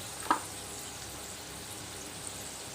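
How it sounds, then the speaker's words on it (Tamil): Papad fries in hot oil alongside chillies with a soft, steady sizzle, and a single sharp crackle pops out near the start. "அப்பளம் நல்லா பொரிஞ்சு வந்திருக்கு"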